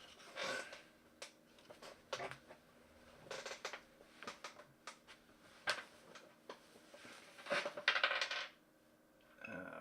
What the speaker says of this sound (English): I rolled a 60 for the first one.